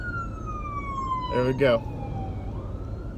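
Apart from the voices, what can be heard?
fire truck siren passing by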